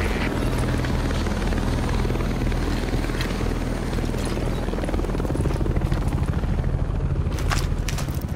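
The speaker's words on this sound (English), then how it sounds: "Evacuation helicopter approaching." A loud evacuation helicopter from the video game The Division thumps steadily with a fast rotor beat, close and continuous, growing slightly stronger toward the end.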